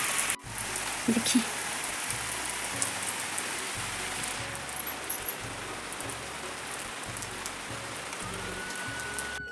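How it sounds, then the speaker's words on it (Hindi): Heavy rain pours steadily, a dense continuous hiss of drops drumming on surfaces, with a brief word spoken near the start. "अभी ना बहुत ज़्यादा बारिश हो गई है"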